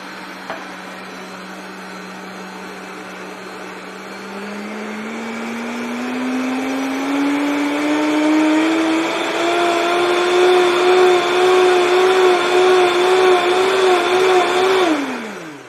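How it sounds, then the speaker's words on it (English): A Vitamix blender whirs loudly up close while making a smoothie, its motor pitch climbing steadily from a low start to a high whine before cutting off abruptly at the end. "Noisy, Vitamix are very noisy."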